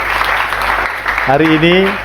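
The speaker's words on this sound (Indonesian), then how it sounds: "Berikan tepuk tangan yang luar biasa buat Tuhan." Applause from a congregation at a church service, a steady dense clatter of clapping at moderate loudness, with a voice joining over it near the end.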